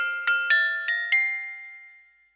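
Roland MT-32 Wind Bell synth patch played through a MIDIPan, four quick chiming notes with bright metallic overtones, sustaining and fading together, soft and isolated.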